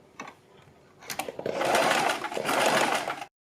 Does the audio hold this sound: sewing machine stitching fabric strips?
yes